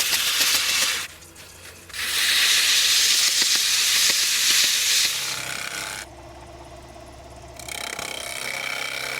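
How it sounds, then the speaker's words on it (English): Wood spinning on a lathe at 1750 rpm is sanded with 100 grit sandpaper, producing a loud hissing rasp that stops and starts, with a lower, steadier hum from the lathe in one gap. "I'm going to start here with 100 grit, and the lathe is at 1750"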